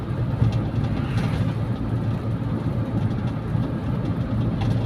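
Carbureted Toyota Kijang engine idling at low RPM, a steady, loud low rumble with no changes in pace, heard up close and alone.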